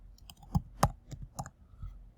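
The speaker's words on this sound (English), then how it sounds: "I'm just going to type in Authors Republic." Intermittent clicks of typing on a computer keyboard while entering a web search, a handful of separate taps with irregular spacing, close and fairly quiet with no talking.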